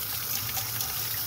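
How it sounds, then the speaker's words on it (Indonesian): Water running from a tap over boiled food in a kitchen to rinse and cool it, a steady close splashing trickle with no pauses. "Kita dinginkan ini. Dicuci dulu."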